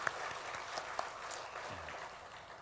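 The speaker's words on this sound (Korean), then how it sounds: "우리 영 레이디를 위해서 박수." A church congregation at a Sunday afternoon worship service claps briefly, a soft, fairly distant patter of hands with a couple of sharper claps standing out.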